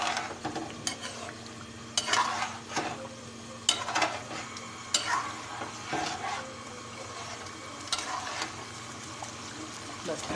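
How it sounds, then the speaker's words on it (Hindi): A fish curry with lemon juice is stirred in a pan on the stove, with soft sizzling under repeated scraping, clinking strokes of the spoon at irregular intervals, close and moderately loud, with no talking. "लेमन डाल के थोड़ा सा इसको मिक्स कर लेंगे।"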